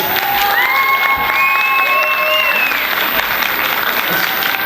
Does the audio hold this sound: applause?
yes